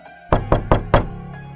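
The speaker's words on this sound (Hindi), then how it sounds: "फिर एक हल्की दस्तक। खटखट।" Four light knocks on a door in a Hindi horror story, evenly spaced in quick succession, crisp and close, standing alone in quiet.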